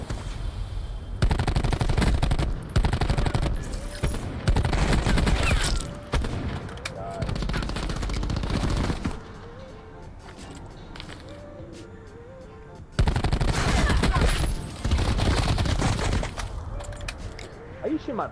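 Loud, rapid bursts of automatic gunfire in a video game, with long stretches of dense shooting broken by short quiet gaps, while players talk in between.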